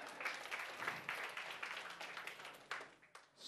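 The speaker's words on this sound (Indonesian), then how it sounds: "Khotbah berhasil, tepuk tangan." Congregation at an Indonesian church service clapping after a sermon, a brief, fairly soft burst of applause with uneven individual claps, rising and falling over a few seconds.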